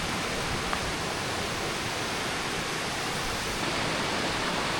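The Krushuna waterfalls roar as a dense, constant rush of falling water, loud and close, with no break and no voices over it.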